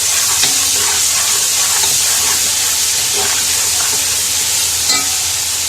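Ginger garlic paste frying with onions for beef yakhni pulao makes a loud, steady, close sizzle and hiss that holds unbroken throughout, with faint stirring clicks on top and no talking.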